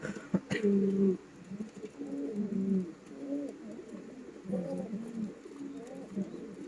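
Imported fancy pigeons in a loft, several birds giving repeated deep rolling coos close by, with brief pauses between phrases.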